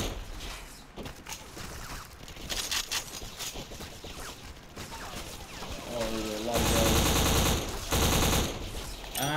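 Automatic gunfire in the video game Black, at a Treneska border crossing, chatters in rapid sustained bursts that grow louder toward the end, with someone speaking over parts of it.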